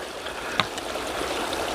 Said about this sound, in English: Well, here's another little side stream that